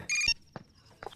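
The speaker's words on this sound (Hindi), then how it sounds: "फोन बजा, फोन।" A phone rings in a short electronic burst of bright tones at the start, followed by a couple of soft thuds and shuffles in a quiet room.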